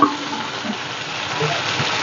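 Bodi frying with masala in a pan gives a close, steady sizzle with a soft bubbling texture, and no talk over it.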